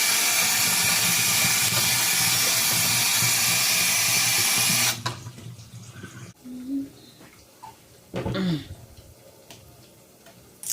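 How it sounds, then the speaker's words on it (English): Plantain frying in a pan of hot oil for a home jollof rice meal, heard as a steady, loud, dense sizzle for about five seconds that then stops, leaving quieter kitchen clatter and a couple of brief knocks. "I'm frying plantain."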